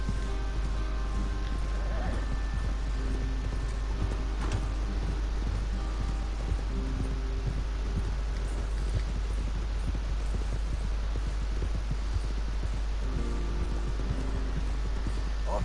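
Horses' hooves clip-clopping at a steady trot in the Western video game Red Dead Redemption 2, a dense, regular rhythm under faint outdoor ambience, fairly close, with no speech.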